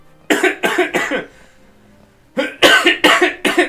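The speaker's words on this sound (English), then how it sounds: "She's definitely hexing me downstairs to cough to death" Someone downstairs coughs hard in two fits: three harsh barking coughs, a short pause, then four more close together, loud and near.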